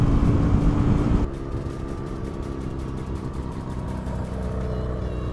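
A Kawasaki Z900 motorcycle on an open road, its engine droning steadily and close with wind rush, louder at first and then settling into a lower, even hum; no talking.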